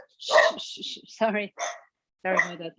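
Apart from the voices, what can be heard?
dog barking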